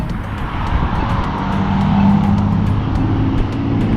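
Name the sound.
loud blue Ford Focus car driving past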